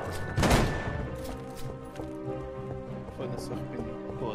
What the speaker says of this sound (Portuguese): Bro, vou mandar uma bomba.